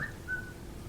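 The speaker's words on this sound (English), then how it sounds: "That's some whistle." A short, thin whistle sound effect gives a couple of high tones, faint and somewhat far, over a low background hum.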